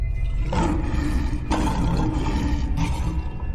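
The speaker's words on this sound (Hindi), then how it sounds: "फिर वो एक जोरदार दहाड़ लगाता है।" A cartoon sea creature lets out a loud, rough roar in three surging bursts over a continuous noisy rumble.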